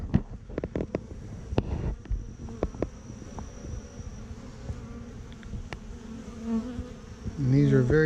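Gentle honey bees buzz steadily nearby in a low drone during a queen introduction, with scattered clicks and thumps of handling and a faint brief voice near the end.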